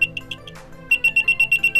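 A vibration-triggered anti-theft buzzer alarm beeps in a fast, shrill, evenly pulsed series, loud and close, with a short rustle from handling partway through.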